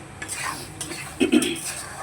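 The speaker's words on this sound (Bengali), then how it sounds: "এবার এটাকে খুব ভালো করে নেড়ে চেড়ে ভাজা ভাজা করে নেব।" Food stirred and fried in a pan over raised gas heat, with short scraping and clattering stirs over a soft sizzle, close and brief.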